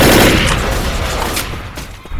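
Sustained assault rifle fire in the zombie shooter Left 4 Dead, a dense, loud rattle of shots that stays steady and then thins slightly toward the end.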